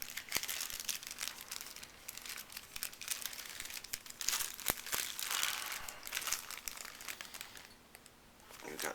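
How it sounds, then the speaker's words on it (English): A plastic bag crinkles continuously near the listener as figure parts are unpacked, with dense rustling and crackling and a few sharper snaps, easing slightly near the end. "we've got a plastic bag here"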